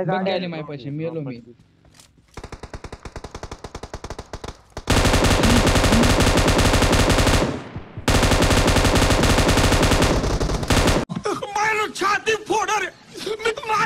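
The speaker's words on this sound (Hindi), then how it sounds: "जब मैं एक नॉक प्लेयर को मार रहा था तभी किसी ने अचानक मुझ पर फायर करके मुझे नॉक कर दिया" Video game gunfire rattles in sustained loud automatic bursts, close and harsh, interrupted by short breaks, with excited talk before and after the shooting.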